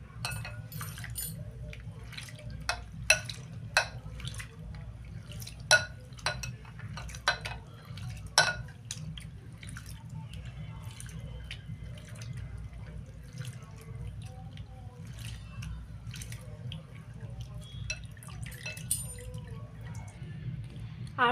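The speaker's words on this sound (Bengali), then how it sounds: "প্রথমে চিড়াটা ভালো করে ধুয়ে নেব জল দিয়ে" Flattened rice (poha) is rinsed with water in a kitchen, a steady low water flow with scattered clinks and taps of a bowl or utensils throughout, close and moderately quiet.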